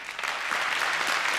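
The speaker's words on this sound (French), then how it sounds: "Car vous êtes en train d'applaudir Hélène Villemot." A studio audience at a French television entertainment show applauds, a brief, dense wash of clapping hands that holds steady and fairly loud throughout.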